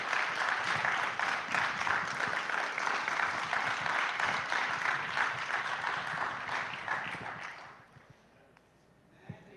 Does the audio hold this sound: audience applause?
yes